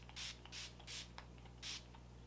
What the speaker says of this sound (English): I am using the Josh Rosebrook Hydrating Accelerator.